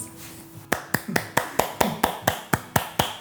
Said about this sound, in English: one of you can do one big clap in front of your face